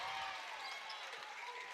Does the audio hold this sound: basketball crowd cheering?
yes